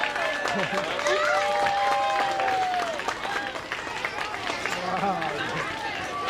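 A children's show audience claps and cheers amid lively crowd chatter, with children's shouts and excited voices rising over the applause, fairly loud and close.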